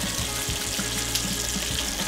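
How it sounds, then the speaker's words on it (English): Bacon sizzles and crackles on a griddle at 280 degrees, a steady dense frying hiss with small pops throughout, close and alone. "I got the bacon cooking at 280 degrees on here"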